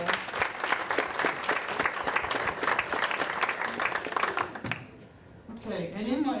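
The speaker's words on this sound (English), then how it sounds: "Please give Matt a nice round of applause" A conference audience claps in a full, brisk burst that carries for several seconds, then thins out and stops before a voice begins speaking.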